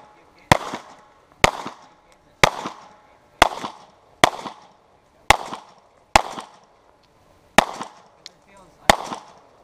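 Black powder gun fired outdoors, ten sharp loud reports at a steady pace of roughly one per second, each followed by a brief echo.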